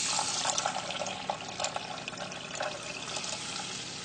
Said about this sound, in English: I'm going to add 6 cups of water to that